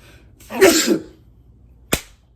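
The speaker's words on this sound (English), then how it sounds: "I'm about to sneeze." A single sneeze bursts out, breathy and loud, followed after a short pause by a brief sharp sound.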